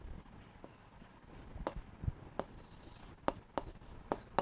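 Chalk or marker taps and strokes across a classroom board during a Class 11 biology lesson on the nervous system, a series of short sharp ticks in an uneven rhythm, close and fairly quiet, with no talk over them.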